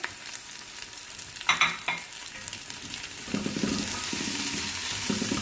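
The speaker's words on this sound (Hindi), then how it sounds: "तो अब हम इसमें प्याज डाल देंगे" Onions hitting hot oil with garlic: a burst of clatter as they go in, then a rising, steady sizzle with stirring scrapes, close and moderately loud, no talking.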